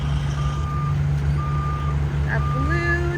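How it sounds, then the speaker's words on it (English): Blue dump truck backing up with asphalt during road paving, its reversing alarm giving steady evenly spaced beeps over a low diesel rumble at moderate distance, with a brief hiss and other tones near the end. "A blue dump truck is backing up with more asphalt."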